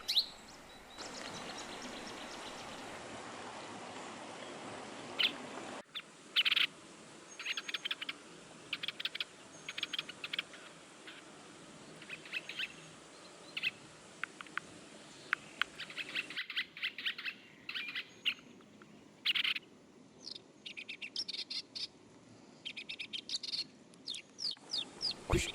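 Many small birds, including willow warblers, chirp and trill in quick, overlapping bursts throughout, with woodpeckers among them, bright and fairly close, over a soft woodland hush with no talking.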